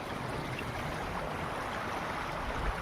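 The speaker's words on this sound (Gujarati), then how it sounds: "આ સરસ મજાની નંદી હાલી જાય છે મિત્રો" A small river runs steadily in a broad, even rush of flowing water, constant and fairly close throughout, with no voices over it.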